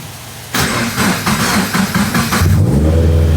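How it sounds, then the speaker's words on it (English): A turbocharged Scion FR-S sports car in a garage cranks with a few rapid starter pulses, catches with a loud burst, then settles into a steady, rumbling idle, close up. "Now we will just let the FRS idle in the garage"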